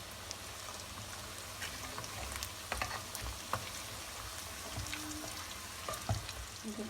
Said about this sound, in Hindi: और इसको फ्राई करेंगे।